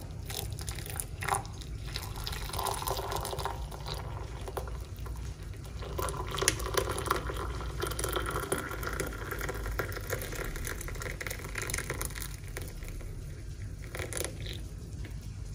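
Water running, dripping and bubbling as tea is made in a home kitchen, a steady close wash of liquid with scattered clinks and patters throughout.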